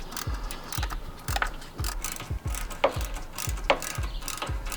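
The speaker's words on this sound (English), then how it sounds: "Getting the clamps nice and tight." Close-up ratchet clicking as a hand tool tightens intercooler pipe clamps on a Veloster N or i30N: a regular train of sharp pawl clicks with a low thump on each stroke, steady and loud, no speech.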